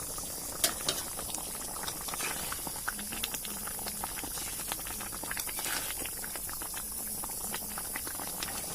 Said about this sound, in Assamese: এতিয়া আৰু উতলিছে ইমান উতলিব নালাগে